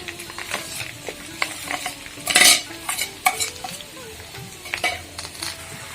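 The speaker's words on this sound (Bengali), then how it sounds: "চালতার সাথে ভালো মতো গুড়টা লাগিয়ে নিয়েছি।" Chalta pickle is stirred with sugarcane jaggery in a pan, with repeated scraping and clinking strokes of a spoon over a soft sizzle, one louder scrape standing out midway.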